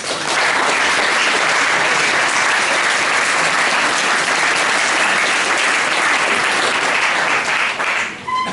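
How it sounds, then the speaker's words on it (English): A dense, loud round of applause from a crowd at a Fellsman 2013 prize giving, steady and sustained for several seconds before dropping off abruptly. "So if I can ask you to give a round of applause for them."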